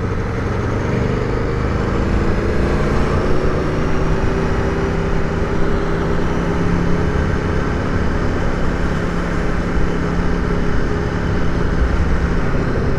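An Aprilia Tuono V4 motorcycle being ridden in second gear gives a steady, loud engine drone blended with wind rush, holding a fairly constant pitch throughout.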